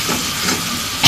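Chili goes into a hot pan with fried garlic and ginger, producing a loud, close, steady sizzle and hiss that swells briefly at the end.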